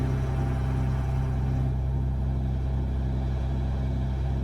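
A Freightliner FLB truck engine in American Truck Simulator rumbles with a steady low burble, loud and continuous, close and unbroken, with no talking over it.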